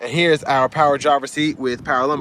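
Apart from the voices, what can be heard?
None of the usual background noises is heard.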